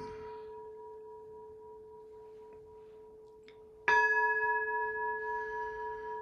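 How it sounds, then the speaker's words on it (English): A temple bell rings during a Zen meditation session: one resonant stroke hums on with a long, fading tone, then a second strike lands clearly and sustains loud, clean overtones that decay slowly in an otherwise quiet room. "The temple bell."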